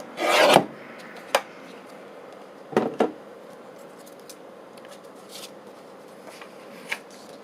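Paper book signatures are trimmed in a quiet room, giving a few short, separate rasping cuts: a longer burst at the start, then brief isolated swipes with soft pauses between them and no talk.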